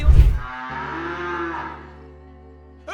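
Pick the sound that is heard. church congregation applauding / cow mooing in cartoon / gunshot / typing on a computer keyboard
cow mooing in cartoon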